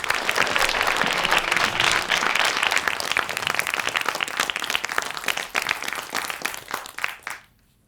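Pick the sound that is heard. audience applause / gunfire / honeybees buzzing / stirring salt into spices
audience applause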